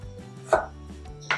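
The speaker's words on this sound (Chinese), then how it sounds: "我将这番茄来切成小丁。" A knife dicing a tomato into small pieces on a cutting board gives two crisp, close chops with a quiet pause between them and no talking.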